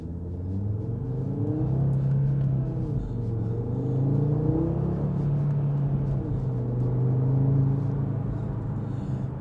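A 2019 Audi RS3 with a 2.5-litre TFSI engine and seven-speed dual-clutch S-tronic gearbox accelerates hard in first gear in dynamic mode, its engine note a loud, steady growl that rises and falls in pitch, heard from inside the car.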